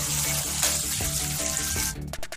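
Sliced onions with curry leaves and green chillies sizzling and crackling steadily in hot oil in a pan, loud and close, with a brief stir near the end.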